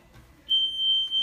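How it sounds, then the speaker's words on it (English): A workout round timer sounds a single sustained high electronic tone that starts suddenly partway through and holds steady, loud and close, after a quiet moment with no talk. "The moment you hear the tone,"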